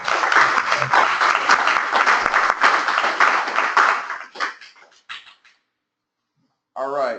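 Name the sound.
applause after a presentation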